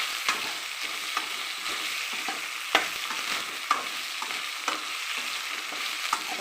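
Raw plantain pieces frying in hot oil for a Tamil valakkai kulambu, a steady sizzle broken by scattered spoon scrapes and stirring clicks, close and moderately loud with no talking.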